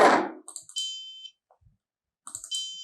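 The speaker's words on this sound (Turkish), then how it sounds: "Buzzer'ımdan bu şekilde ses çıkarabiliyorum." A Pinoo electronic buzzer sounds an A4 note in two short bursts, each opening with brief electronic chirps and clicks before a steady high-pitched tone; a soft noise burst comes first, with near silence between the beeps.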